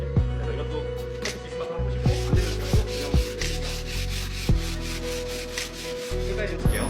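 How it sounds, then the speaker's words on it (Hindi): A wooden piece is rubbed smooth by hand during a woodworking class, giving repeated sanding strokes in a steady rhythm, loud and close, over a low continuous hum. "इंस्ट्रक्टर इसको हाथ से स्मूथ कर रहे हैं और शुगा भी।"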